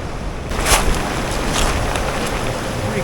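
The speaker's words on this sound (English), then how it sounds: "the waves are sometimes coming in like this" Ocean waves surge and churn into sea caverns at Chin Beach on Vancouver Island's Juan de Fuca Trail, a loud, continuous rushing wash with wind buffeting the microphone and no speech.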